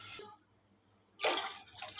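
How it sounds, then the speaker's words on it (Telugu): Water is poured into rice in a cooking pot for bagara rice: a short splash at the start, a quiet pause, then a clear, close pour that runs to the end. "4 గ్లాసెస్ వాటర్ వేసుకుంటాను."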